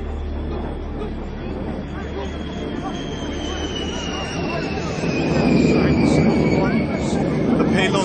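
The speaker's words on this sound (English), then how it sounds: "This shot is coming from one of the 2 fighter bombers moving into..." Fighter bomber aircraft roaring overhead in a dramatized scene, a steady broadband engine rumble that swells louder toward the end, with a high whining tone sweeping across it and a faint murmur of voices beneath.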